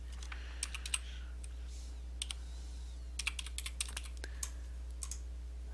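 Numbers are typed on a computer keyboard in quick, soft bursts of key clicks separated by short pauses, close but quiet over a low steady hum.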